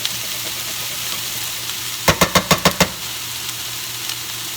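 Onions frying in a pan give a steady sizzle, broken midway by a quick run of six sharp, evenly spaced knocks before the sizzle carries on alone.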